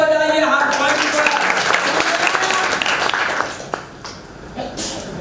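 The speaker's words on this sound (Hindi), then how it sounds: "ताली बजाइए, हाथ पॉइंट पर।" An audience at a church sermon applauds, a dense wash of many hands clapping with music-like tones underneath for about three and a half seconds, then tapering off into quieter room sound.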